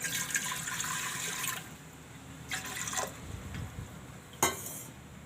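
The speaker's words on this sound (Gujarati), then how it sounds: "આમાં આપણે પાણી નાખશું।" Water is poured into a cooking pot on a gas stove for boiling potatoes, a soft, steady splashing pour lasting over a second, followed by faint clinks and brief trickles in a quiet kitchen.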